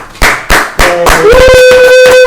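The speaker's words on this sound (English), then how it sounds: "Everybody clap for Tevin." A studio audience on a talk show claps, a few sharp separate claps at first swelling into dense, loud applause, with a sustained tone rising underneath as it builds.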